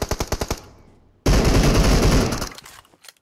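PUBG Mobile machine gun fire comes as a rapid burst of close shots, then a loud sustained roaring barrage that fades and ends, with no talk over it.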